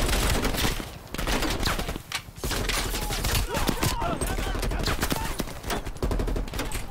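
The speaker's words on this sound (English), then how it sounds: "Oh, that's a grenade." Dense gunfire rattles almost continuously in a Call of Duty Cold War side mission on Realism difficulty, with heavier blasts suggesting a grenade explosion among the rapid close shots.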